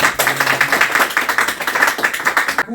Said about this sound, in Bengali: এই খুশিটা সবাই হাত তালি